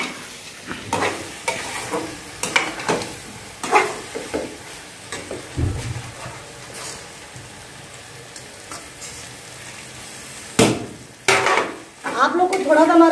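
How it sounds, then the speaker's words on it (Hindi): Bakala and potato vegetable is stirred in a pan over medium heat, with a steady sizzle under repeated spoon scrapes and clinks against the pot, close by and with no talking. "अब इसमें हम सब्जी को डाल देंगे। सब्जी को डालकर अच्छे से मिलाएंगे। अब मीडियम आंच पे इसको 2 मिनट और भुनेंगे हम।"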